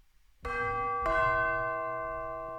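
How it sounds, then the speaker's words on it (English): Two resonant tubular bell strikes about half a second apart, each ringing with bright overtones that sustain and slowly fade. "See, tubular bells."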